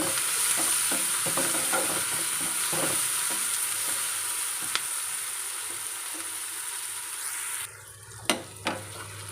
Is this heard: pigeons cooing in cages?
no